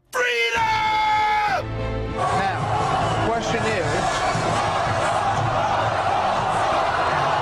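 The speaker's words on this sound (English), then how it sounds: "the cheering is happening here for Ron Paul in the stadium" A stadium crowd roars and cheers for Ron Paul, a loud sustained wash of voices with whoops and shouts throughout, while someone speaks briefly near the start over a held electronic tone.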